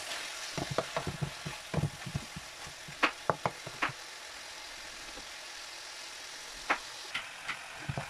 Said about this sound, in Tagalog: Yeah, sauteed shrimp.